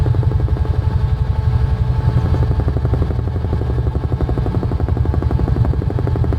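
A Huey UH-1H helicopter in a flight simulator game banks into a hard turn over trees near Manila Bay, its rotor thumping in a fast, steady, loud beat with a droning engine underneath.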